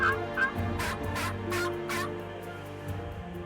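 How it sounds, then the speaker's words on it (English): Wild turkeys gobble repeatedly during a Missouri turkey hunt, several loud rattling bursts close together in the first two seconds, then a quieter stretch with low background hum. "with the aid of a few well-placed decoys and, of course, some skillful turkey calling"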